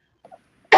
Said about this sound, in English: I might cough a lot.